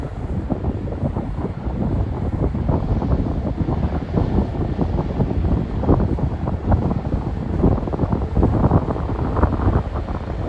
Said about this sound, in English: the wind is really coming in now